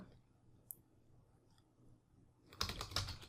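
Typing on a computer keyboard: a few faint, scattered clicks, then a brief, denser burst of key taps near the end in an otherwise quiet room.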